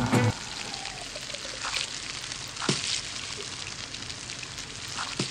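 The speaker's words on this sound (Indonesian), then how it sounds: "Aha, kita tumis dulu mie-nya ya." Noodles stir-frying in a pan in the Toca Kitchen 2 cooking game, a steady close sizzle and crackle throughout with a few brief clicks and taps, no talking.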